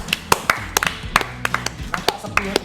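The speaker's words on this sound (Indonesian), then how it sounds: "Sepi ya tepuk tangan kita ya." Sparse, uneven clapping from a small studio audience, with only a few pairs of hands striking in a loose rhythm and the claps sounding close and sharp against a quiet room.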